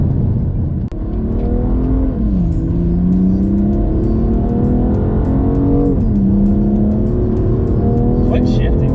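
A 2020 BMW M2 Competition accelerates hard on track, engine droning loud and close and rising in pitch, dropping sharply at two quick upshifts; a voice talks briefly over it.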